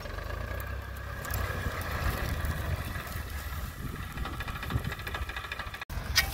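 A tractor engine runs on a farm with a continuous low diesel rumble and chugging, steady and moderately near, with a brief dropout near the end.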